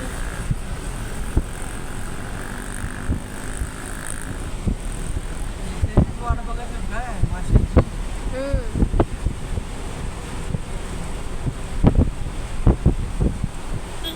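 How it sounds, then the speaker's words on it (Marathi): A rough, swollen sea pounds the shore under strong wind, surf rumbling continuously with sharper crashes breaking through, while wind batters the microphone and a voice talks at times. "समुद्र खवळलेला असतो"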